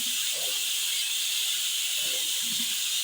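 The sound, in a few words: dough frying in hot oil with sugar syrup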